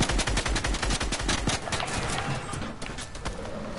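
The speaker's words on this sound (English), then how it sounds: "Stop shooting me!" Rapid, loud video game gunfire in dense rattling bursts, sustained shots stacking close together with barely any pause throughout.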